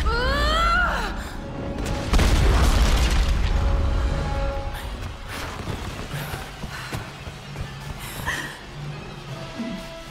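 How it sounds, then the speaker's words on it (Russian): Explosions in the 2013 Tomb Raider video game: a loud boom and rumbling blast with debris and mechanical clatter, followed by quieter scattered impacts and game effects. "гремят взрывы"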